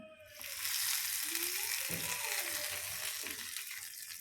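A loud burst of sizzling as a hot oil tempering is poured into chutney, crackling and hissing steadily up close, with a voice speaking briefly under it.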